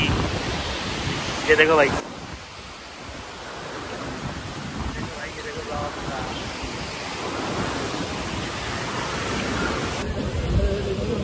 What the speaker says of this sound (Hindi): यहाँ से पानी बह रहा है